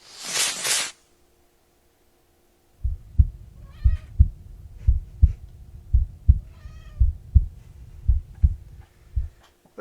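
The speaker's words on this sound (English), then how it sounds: "the cat's back meowing if you heard." A house cat meows twice, up close, over a steady rhythmic thumping, after a brief burst of noise at the start.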